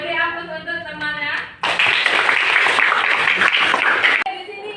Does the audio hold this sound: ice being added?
no